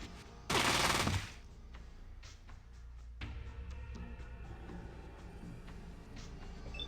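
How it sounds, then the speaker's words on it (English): Pulse rifle fire in Fallout 2: a loud, close burst of crackling energy discharge, followed by scattered quieter shots and impacts over a low background, with no talking. "We're working our way through the Mordino's men with very little trouble, thanks to our pulse rifle."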